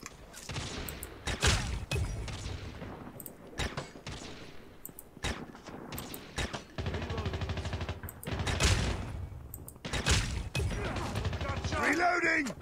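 Rapid gunfire from a powerful weapon in Call of Duty Mobile cracks out in repeated bursts and single sharp shots, with clanks and impacts mixed in and a voice talking over the action.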